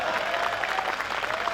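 Audience at a Hindi comedy poetry gathering clapping steadily, a dense and even patter of many hands that fills the hall for the whole moment.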